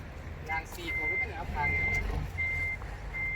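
A vehicle's reversing alarm beeps repeatedly at an even rhythm over a rumbling truck engine while someone talks.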